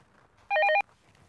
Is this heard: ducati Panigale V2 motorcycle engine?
no